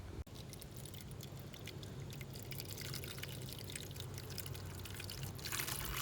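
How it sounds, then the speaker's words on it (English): Water pouring and trickling steadily into a tub being filled for panning crushed quartz, a continuous close splashing wash that swells slightly toward the end. "Just getting the tub filled up with water, ready to pan."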